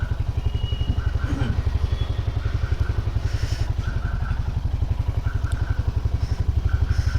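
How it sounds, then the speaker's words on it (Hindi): A Royal Enfield Hunter motorcycle idling just after a cold start outdoors on a cold night, its single-cylinder thump steady and rapid, close and fairly loud, with light mechanical clatter and no talk over it. "सबसे पहले करते हैं अपने हंटर को कोल्ड स्टार्ट"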